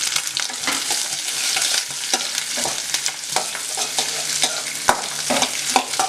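Onion, capsicum and carrot stir-frying in a hot pan, a bright continuous sizzle punctuated by frequent scraping and tapping of a spatula as the vegetables are tossed.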